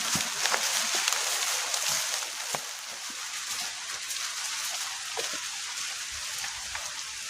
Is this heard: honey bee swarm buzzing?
no